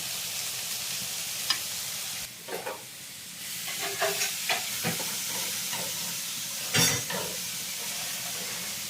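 Carrot thoran fries in a pan in a Kerala kitchen, a low steady sizzle with intermittent scraping and stirring knocks from a spoon.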